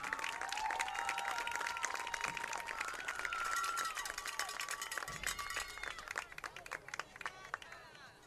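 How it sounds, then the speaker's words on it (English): Crowd applause and cheering for senior football players leaving the field at a Rivercrest Colts vs. Piggott Mohawks high school football game, steady and dense throughout with announcer voices and crowd chatter mixed in. "Please give the first row of senior football players a round of applause as they exit the field."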